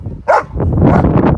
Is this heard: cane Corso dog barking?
yes